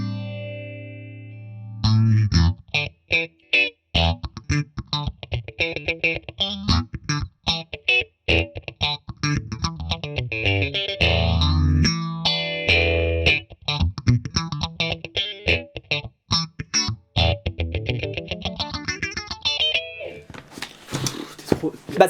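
Electric guitar runs through a Flamma chorus pedal with depth at maximum, producing a quick string of plucked notes and chords with a wobbling, shimmering modulation; the playing is fairly loud and close, with a brief burst of noise at the end.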